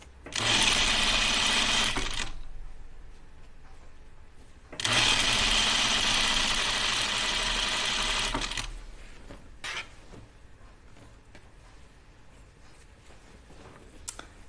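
A sewing machine stitches a dress seam in two long, steady runs of motor whir, the first lasting about two seconds and the second about four, separated by a pause, with quiet handling noises afterward.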